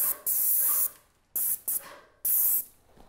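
An airless paint sprayer hisses in three bursts while spraying trim, two longer blasts around a short double pulse, loud and close with quiet gaps between.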